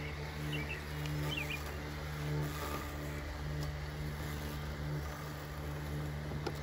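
A STIHL iMow robotic lawnmower drives over a bumpy, steep hillside lawn, its quiet electric motor a faint steady hum with soft mechanical whine, distant birdsong in the background.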